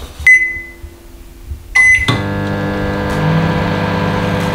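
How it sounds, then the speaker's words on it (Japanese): A microwave oven heating dried prawn cracker chips at 600 watts gives a couple of bright electronic beeps, then its door clunks and a steady loud hum and whir takes over and runs on without break. "じゃあねちょっとね電子レンジ今これやってみたいと思います"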